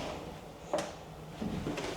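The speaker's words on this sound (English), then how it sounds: "And this door also closes off." A hotel bathroom door at the Eurostars Grand Marina Hotel in Barcelona swings shut with one faint, brief knock, followed by a soft shuffle in a quiet room.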